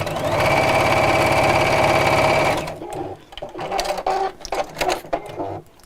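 A sewing machine runs steadily and loudly, stitching a straight seam across a fabric bag for about two and a half seconds, then stops, leaving quieter handling noises and soft rustling.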